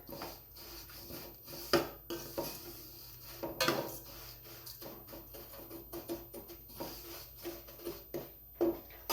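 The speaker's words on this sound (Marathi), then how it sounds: "याचा कलर थोडासा असा ब्राऊन करायचा आपल्याला जास्तीच्या पण भाजायच्या नाही हे पहा अशा पद्धतीने भाजून घ्यायच्यात आपल्याला शेवया" Vermicelli dry-roasting in a pan until light brown, with a spatula scraping and clinking against the metal in irregular, fairly quiet strokes.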